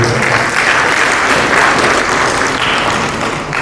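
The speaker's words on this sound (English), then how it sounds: "Please let us clap for them" A ceremony audience at an opening event in Ogun State claps for honoured guests, a loud, dense and unbroken roar of many hands that stays level throughout with no voices rising above it.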